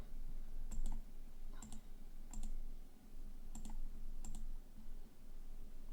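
Mouse clicks on a button in a crypto finance web app: several crisp, quiet clicks, some in quick doubled pairs, spaced across the seconds over faint room noise.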